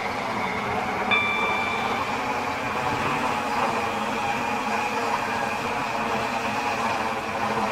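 A train rumbles and hums steadily along the rails as it slows arriving at Airport Terminal 1 station, with a faint high whine of brakes or motor and no talking.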